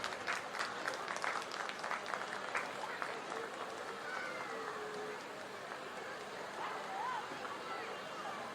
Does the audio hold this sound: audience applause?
yes